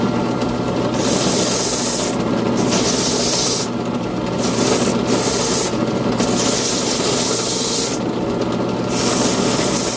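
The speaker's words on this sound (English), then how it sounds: "we're over at the drill press with a sanding mop in here" Steady abrasive whirring and rubbing of a sanding mop spinning in a drill press against wood edges, loud and continuous with brief hissing bursts throughout.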